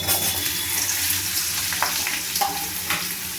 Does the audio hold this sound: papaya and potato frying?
yes